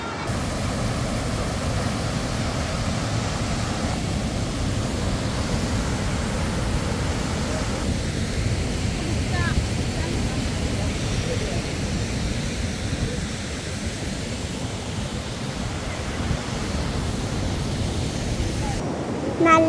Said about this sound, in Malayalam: നല്ല വെള്ളച്ചാട്ടാ.